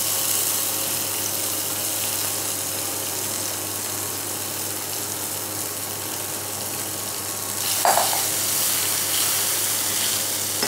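Chana dal and chopped ginger frying together in a pan for Bengali dal puri filling, a steady broadband hiss of sizzling oil throughout with a brief louder scrape or stir near the end.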